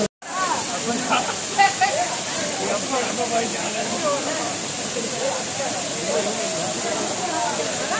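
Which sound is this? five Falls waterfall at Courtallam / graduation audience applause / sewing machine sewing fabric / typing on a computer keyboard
five Falls waterfall at Courtallam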